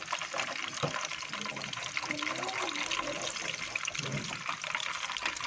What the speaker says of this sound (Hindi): फिर हम इसमें फ़िश को डाल देते हैं और दोबारा इसको जो हमारा हाफ रह गया ना वो भी हम इसको फ्राई कर लेते हैं।